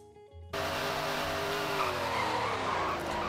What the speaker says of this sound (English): let's do the brake test now